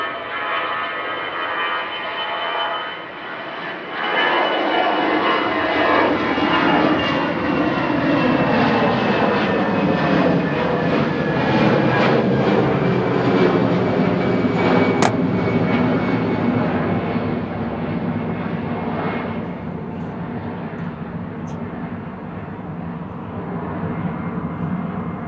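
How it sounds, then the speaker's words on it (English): A Eurowings Airbus A320 departs Manchester Airport for Dusseldorf, the jet roar jumping up after a few seconds and holding loud and sustained, with a rising engine whine that slowly fades. "Eurowings departing to Dusseldorf. Flight 9345, 9H EWC and A320 going now."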